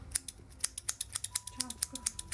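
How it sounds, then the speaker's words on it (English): A pair of scissors snips repeatedly at a steady, fast rhythm, close and crisp, with a faint tone in the background. "Pair of scissors."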